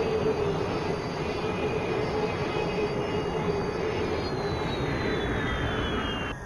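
A space taxi engine in the VR game Solara One, a loud steady whooshing drone with a faint rising whine and a pitch slide near the end, running throughout with no talk.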